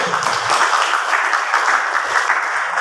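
Steady audience applause at a school staff work meeting in Jakarta, many hands clapping together in a continuous, even wash without any talk over it.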